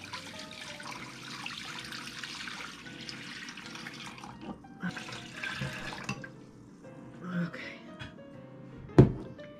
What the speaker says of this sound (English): I'm going to put enough water in to get at least a quarter away above